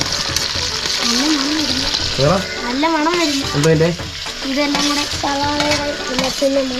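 Onion sizzles in hot oil with mustard seeds in a pan for a prawn roast, a loud continuous frying hiss with stirring scrapes, while music plays along underneath.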